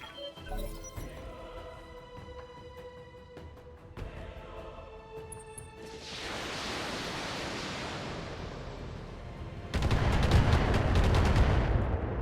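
Mech weapons fire in the video game Battletech as a heavy, noisy roar that swells around the middle and ends in a loud, sustained blast, with no talking.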